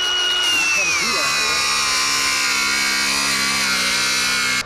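A cordless grinder cuts through 2x4 lumber with a sustained high whine that drops slightly in pitch as the disc bites into the wood, loud and close, with no speech.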